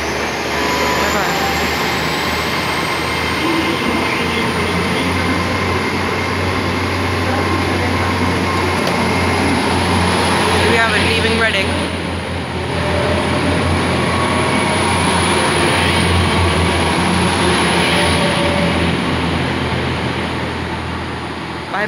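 A new Intercity Express train leaving Reading station rumbles steadily with a high whine above it, the noise holding for the whole stretch with faint chatter in the background.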